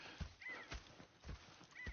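Horses in the Red Dead Redemption 2 video game give a whinny over a few steady hoof clops, close and clear, with no speech.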